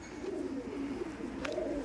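Kaldom pigeons coo in low, rolling, repeated phrases close by, steady and soft, with a brief sharp click partway through and no talk.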